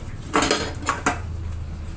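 Dishes washed in a kitchen sink: plates and cutlery clatter in a few distinct clanks over a low, steady background hum, close by and with no talking.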